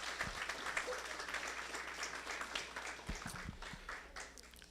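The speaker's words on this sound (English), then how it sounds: "Please give them a round of applause for this beautiful recitation." An audience applauds after a Quran recitation at an Islamic center outreach program, a moderate, steady patter of many hands clapping throughout, with a few louder low thumps.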